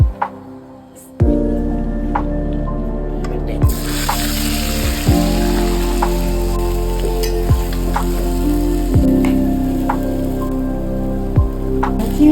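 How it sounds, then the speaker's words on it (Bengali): Olives dropped into hot oil in a pan on the stove, a sudden loud sizzle bursting in after a quiet start and continuing densely, with occasional clacks of a utensil against the pan, close and alone without speech. "তেল দিয়ে দিচ্ছি তেলটা গরম হয়ে গেছে এখন আমি জলপাইটা দিয়ে দেব"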